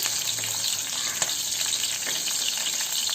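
Green chillies slit down the middle frying in a pan over a low flame, giving a steady, close hiss of oil with small crackles and one sharp pop, no talking.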